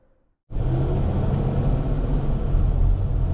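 A 2024 Toyota Camry SE Hybrid starts rolling after a short quiet moment, then a steady low road rumble and tire roar fill the cabin at constant loudness while driving on a road.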